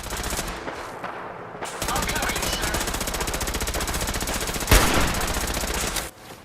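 Rapid automatic gunfire from the companion Ada in the game Fallout 4 rattles in a dense, sustained burst, with one louder blast near the end before it cuts off.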